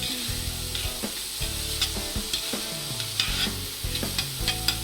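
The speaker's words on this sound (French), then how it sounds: "Les oignons et l'échalote. Je m'arrête pas de remuer, il faut pas que ce soit frit." Onions and shallot stirred continuously in a pan for a homemade daube, a steady sizzle broken by regular scraping strokes of the spoon, close and fairly loud, with no voices.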